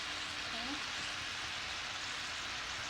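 Diced seasoned taco meat heats in a pan, giving a soft, steady sizzling hiss that stays faint and even throughout.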